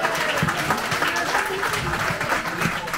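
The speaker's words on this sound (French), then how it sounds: "On peut donc applaudir Stéphanie, Thomas et Philippe." An audience applauds singers at an evening stage event, a dense continuous clapping heard close and loud for the whole stretch, with some crowd noise mixed in.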